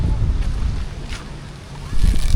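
Wind gusting and buffeting the microphone beside a lake, a steady low rumble that swells louder near the end, with faint voices in the background.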